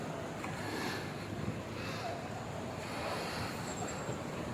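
Sea waves washing onto a beach on Boracay island, a steady broadband surf wash with some wind noise across the whole stretch and no clear voices.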